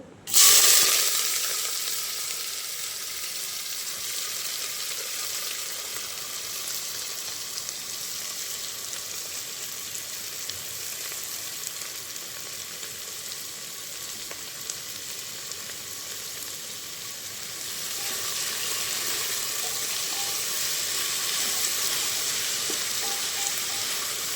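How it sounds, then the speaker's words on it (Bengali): Chopped onions hit hot oil for mutton kosha with a sharp initial burst, then a steady, close hiss of frying that carries on evenly for over twenty seconds, with no voices. "তেল গরম হয়ে গেছে, এবার আমি পেঁয়াজ কুচিটা দিয়ে দেবো।"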